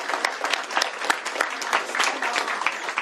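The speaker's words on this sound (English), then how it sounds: "Give them a huge round of applause there." An audience at a governor's bill signing bursts into lively applause for state legislators and sponsors, a loud, thick clatter of many hands with a few louder claps poking out and no speech on top.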